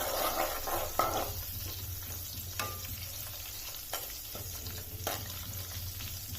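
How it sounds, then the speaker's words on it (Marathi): Curry leaves frying in hot oil in a pan for tomato pickle, giving a steady close sizzle and crackle, with a few sharp clinks of a spoon stirring against the pan. "हा थोडासा कढीपत्ता आता याला थोडंसं परतून घेऊया"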